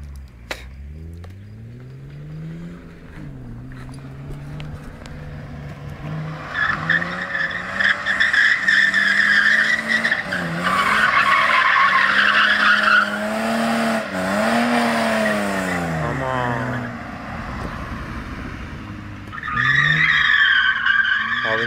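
A car is driven hard through a turn, its tires squealing and skidding in long wavering screeches over the revving engine. The skid builds, eases, and starts again toward the end, loud and close.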